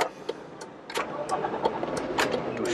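A BMW E30 convertible starts in the rain: a few sharp clicks, then the engine cranks and catches around a second in and settles into a steady, close idle hum.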